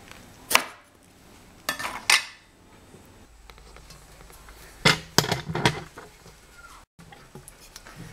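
A knife cuts through a firm artichoke in several distinct chops, a pair early and a quick cluster later, over a low background hum.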